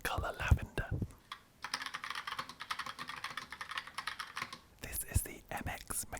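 Fingers type on a Logitech Pop Keys wireless keyboard in lavender, a rapid close run of crisp clicky keystrokes with brief pauses at the start and end, and faint whispering in between.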